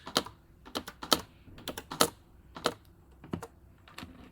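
Computer keyboard typing comes through close up, a quick uneven patter of sharp key clicks over a few seconds with no talk.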